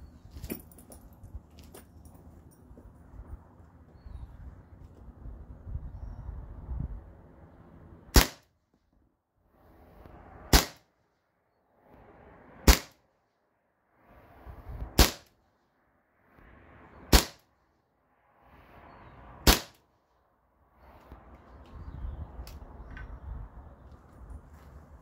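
A modded T4E TR50 fires rubber steel balls at a target, giving six sharp, loud, close shots spaced roughly two seconds apart, with quiet handling noise between shots and rustling before and after.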